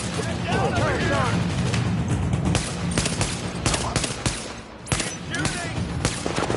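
Dense, sustained gunfire from a firefight in the video game Tom Clancy's The Division, with rapid bursts and sharp shots over a loud, continuous battle din, while voices shout under the shooting.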